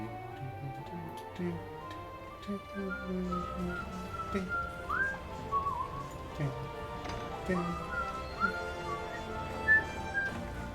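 Someone whistles a melodic tune in short rising and gliding notes, soft and somewhat distant, over a busy background with voices and ticking sounds.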